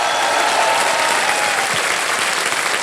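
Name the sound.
studio audience applause on KBC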